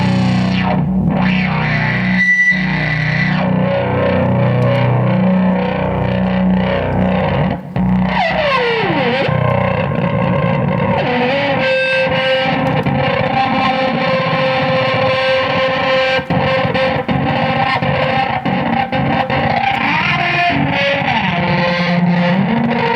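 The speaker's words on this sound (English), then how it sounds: "An amazing and pretty intense patch, and very typical of the Venom's brilliant sounds." An intense patch on the M-Audio Venom synthesizer roars continuously, a thick, distorted, gritty sound with sweeping pitch bends and brief dropouts, loud and sustained throughout with no voices.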